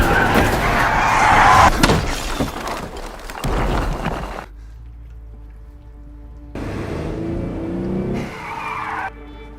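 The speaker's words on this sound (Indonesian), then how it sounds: "Namun di tengah perjalanan mobil mereka ditabrak." Tires screech and an engine roars as a car is rammed in a film crash scene, loud and close, the skid breaking off abruptly before resuming in a shorter second burst.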